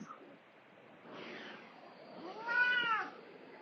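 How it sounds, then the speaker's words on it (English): A cat meows during a quiet yoga class, with two drawn-out calls, the second louder and clearer, close by in a calm room. "Ignore the cat."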